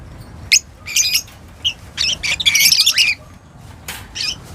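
Alpha birds squawk and chirp in a giant cage as they are let out, with sharp bursts of loud calls coming in clusters, some overlapping in a busy run, then a final pair of short squawks.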